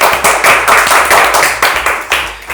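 Hands clap loudly and close in an irregular run of sharp claps, some overlapping, during a Bollywood actress's interview, with little else behind them.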